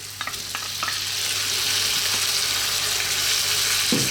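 Tuna with bell pepper and other vegetables frying in a pan: a loud, steady close sizzle that swells after a few stirring clicks and scrapes at the start.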